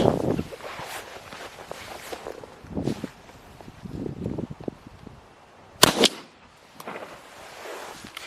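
A Franchi Affinity 3 shotgun fires Kent 3-inch 2-shot Fast Steel 2.0 at 40 yards outdoors: one sharp, loud report stands out amid wind and scattered rustling and thumps.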